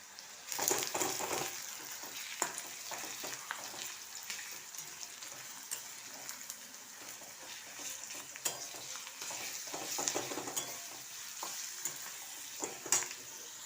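Crushed garlic and translucent onions fry in white oil in a pan for a Bengali winter palang curry, a steady close sizzle with scraping and stirring clatter throughout.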